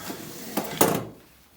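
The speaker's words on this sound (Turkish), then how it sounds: "Sandalyeyi ortadan kaldıralım." A chair is shifted across the floor: two quick wooden knocks and a short scrape, close by, then quiet.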